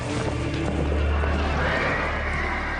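In a battlefield setting, a horse whinnies through a dense rumbling background of movement and noise, its cry rising and fading over a few seconds at close to medium distance.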